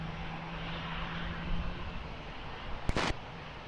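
A fixed-wing airplane taking off at Lisbon Airport, a steady loud engine roar heard from a distance, with a brief sharp burst of noise near the end.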